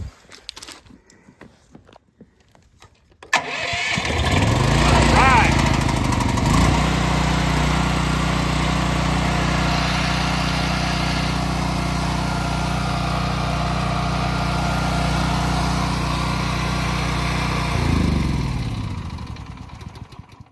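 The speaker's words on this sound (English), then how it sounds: "I got the generator started yesterday." A small, inexpensive generator is choked and pulled to start after a few quiet seconds. It catches with a sharp burst and settles into a loud, steady running drone close by, then the engine note shifts near the end.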